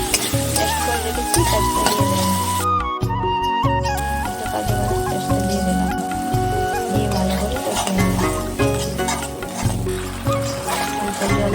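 Spice paste with cashew nuts sizzles and spatters steadily in a pan, with regular scraping strokes of stirring, all beneath a loud tonal musical backing.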